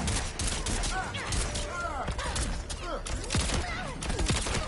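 Rapid gunfire in the fighting game Mortal Kombat 11, a dense fusillade of sharp shots rattling continuously throughout, mixed with whooshing effects and occasional voices under the fire.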